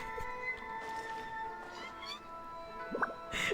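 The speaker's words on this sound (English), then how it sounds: "Wait, why is this cat inside the box?" A cat inside a box meows in Genshin Impact, two or three short, faint mews near the end over steady background music.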